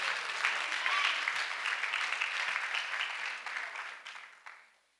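A church congregation claps together in a steady wash of applause that gradually fades out near the end.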